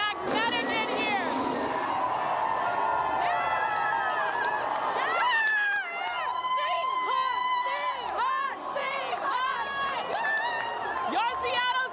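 Seahawks fans celebrating a Super Bowl victory fill the space with loud, continuous crowd cheering, shouts and whoops. The roar is sustained from start to finish, with a voice calling out over the din.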